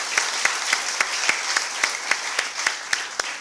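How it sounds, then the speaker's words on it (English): An audience at a talk on positive thinking claps in a dense, sustained round, with sharp rhythmic accents standing out about every quarter second over the steady wash of hands. "Anyway, with this clapping,"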